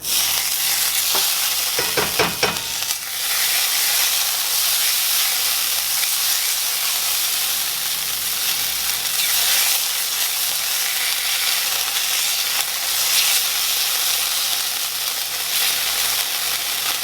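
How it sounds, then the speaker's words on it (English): About a tablespoon of butter sizzles in a large pan over medium-low heat, a steady bright hiss with a short burst of clattering near the start, then continuous crackle without speech. "I'm going to add about a tablespoon of butter in here"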